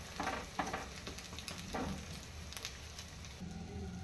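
A leafy greens omelette fries in plenty of oil in a pan, giving a steady close crackling sizzle with scattered sharper pops and faint scraping, no voices.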